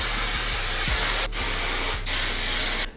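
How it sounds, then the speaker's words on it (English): Hair spray misted through natural hair for a sleek low bun, heard as three close, loud continuous hissing bursts separated by brief pauses. "So I take this and I just literally spray all through my hair."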